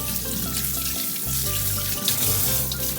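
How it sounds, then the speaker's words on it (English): Vegetables being washed under a running kitchen tap for a pork and vegetable miso soup: a steady, close rush of water with shifting splashes and gurgles as the food moves through the stream. "Wash those vegetables well."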